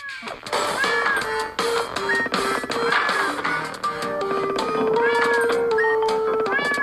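A cartoon cat in the video game Crashy Cats meows repeatedly in bright, rising calls over game music and sound effects, loud and continuous throughout.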